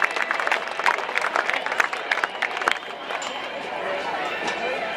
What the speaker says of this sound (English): how about you give them a great big round of applause